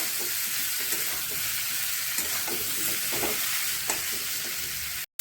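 Vegetables with tomato and ground coriander-cumin fry in a pan, giving a steady close hiss and sizzle with occasional soft stirring scrapes, and no voices until the sound cuts off abruptly.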